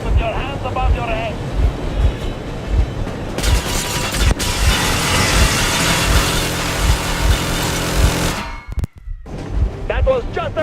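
A train engine in Metro Exodus runs as a heavy, steady mechanical rumble that swells loud for several seconds, then cuts out abruptly. Voices speak before and after it.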